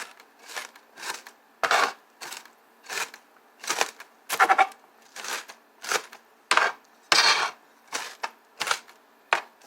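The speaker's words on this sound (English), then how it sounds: "I'm going to finish mincing my onion." A small onion minced with a dough cutter on a board, a run of about fifteen crisp, evenly spaced chopping knocks, close and alone without talk.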